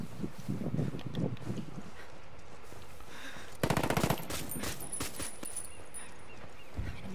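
Gunfire in the tactical shooter Ghost Recon Wildlands: a quick automatic burst cracks out near the middle, with scattered fainter shots and low ambient rumble around it, no talking.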